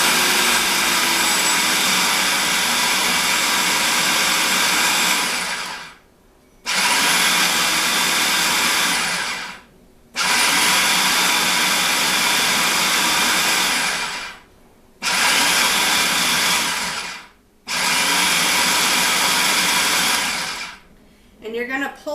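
A food processor pulses duck egg pasta dough in four long, loud bursts of several seconds each, with brief silent gaps between them, close up and with no talk over it.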